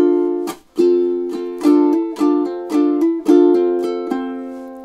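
A ukulele plays measures five and six of a song, with several bright strummed chords in a lilting syncopated pattern, each ringing out before the next, played solo up close.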